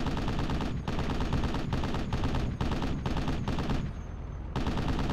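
Rapid automatic gunfire in the military shooter game Project Reality, loud and close, sustained bursts broken by brief pauses, with a short lull near the end.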